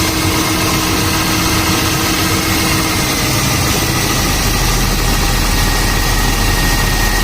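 Mercedes-Benz S300 engine idling after its alternator was replaced, a loud, steady, close-up running drone with continuous low rumble and vibration and no speech.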